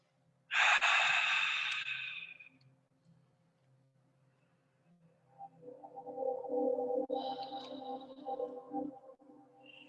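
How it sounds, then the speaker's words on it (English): Deep breathing during a yin yoga practice: one loud, long hissing breath that fades, a pause, then a slower, rougher exhale, close and alone. "make sure they can hear you breathing"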